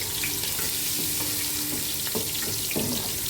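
Green chillies sizzle and fry in hot oil in a pan for fajita rice, a steady dense crackle filling the whole moment with a few stirring clinks, close and loud, no voices.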